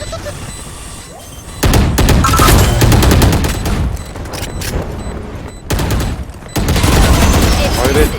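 Loud, close bursts of rapid gunfire in the competitive shooter Valorant, several volleys of overlapping shots with short pauses between them.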